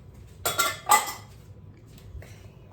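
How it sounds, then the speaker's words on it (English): Metal cake pans clank and clatter as they are shifted around a home kitchen, giving two bright clustered knocks close by and then a softer scrape, with no talking. "Now let's get our pans."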